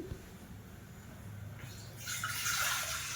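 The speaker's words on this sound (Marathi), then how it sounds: "दोन वाट्या पाणी घालतीये" Two bowls of water poured into a cooking pot while preparing dough for steamed modak, a quiet start giving way to a louder, brighter splashing pour in the last second or so.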